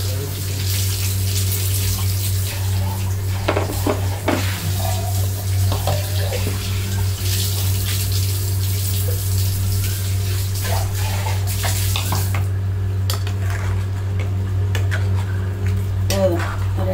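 Water runs and splashes into a mixer jar for rinsing during Chettinad chicken kuzhambu preparation, a steady close pouring and sloshing with occasional knocks of the jar, under a low background hum.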